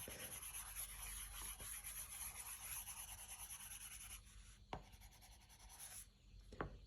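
A goojodoq stylus writes on an iPad Gen 8 screen in a note-taking app, giving a steady close-up scratchy rubbing of the tip gliding over glass, with a couple of sharper taps near the end.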